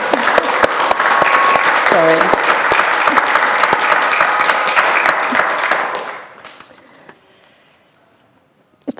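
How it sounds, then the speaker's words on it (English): Hands clapping together with an audience in a literary conversation event, a dense burst of applause for about six seconds that then fades out, with a brief spoken word near the end. "I'm just going to clap."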